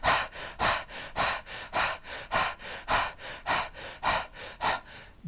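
A rapid short breathing exercise: about a dozen quick, forceful breaths in a steady rhythm, close and clear with no talk.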